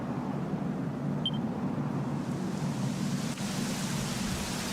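Steady rain falls in Dragon Quest XI S as a continuous, even hiss with no distinct drops or breaks, heard alone at a moderate level.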